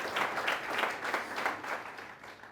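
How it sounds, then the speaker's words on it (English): Applause from an audience at a book launch as Farid stands to be recognised, a steady wash of clapping that fades toward the end, fairly soft and without speech. "Let's clap hands for him."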